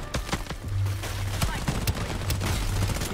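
SMG gunfire crackles in the online shooter Shatterline as dense, rapid bursts of shots over game background noise, with a voice talking over it.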